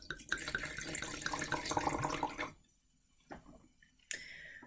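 Wine, a Hungarian Cabernet Franc, poured into a glass, a steady liquid stream for about two and a half seconds, then stopping, followed by a few faint clinks and small handling sounds.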